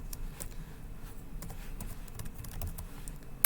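Keys tapped on a computer keyboard while entering a command at a Windows command prompt, a quick irregular run of light clicks up close, fairly quiet against a low background hum.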